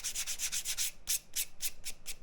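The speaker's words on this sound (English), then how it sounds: "this is when you can just take your sandpaper" Sandpaper rubs back and forth along a leather edge to even it out, about a dozen quick rhythmic rasping strokes, close and moderately loud.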